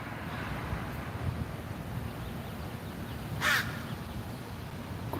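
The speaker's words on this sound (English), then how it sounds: "Those crows are ticked." Crows caw outdoors in a city setting near law courts: a single harsh caw rises over steady wind and rumbling traffic-like background noise, fairly distant and short, with no talk.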